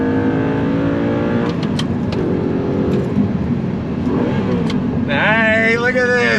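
A 2009 Audi R8 with a six-speed manual gearbox revs through a heel-toe downshift while driving into a right-hand bend, its engine loud and close, climbing sharply in pitch near the end, with someone talking over it.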